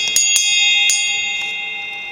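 A bell is struck several times in quick succession, its clear metallic tones ringing close and sustaining as they slowly die away, with no talk.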